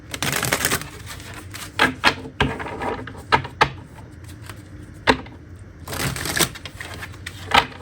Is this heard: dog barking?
no